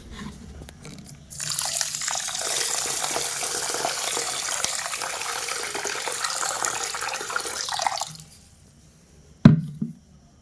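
Kitchen tap water runs steadily for several seconds while rice is put to soak, then cuts off, followed by a single brief knock or clunk.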